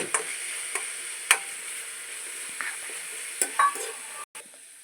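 Ginger garlic paste cooking into a brinjal curry in a pan, with a steady soft sizzle and a few sharp spoon clicks and scrapes against the pan at irregular intervals.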